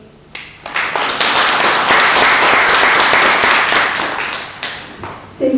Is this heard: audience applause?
yes